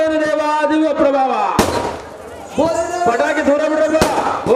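Firecrackers go off during an open-air Bayalata folk theatre performance in Thammenahalli, giving two sharp, loud bangs that cut through ongoing sung and instrumental music.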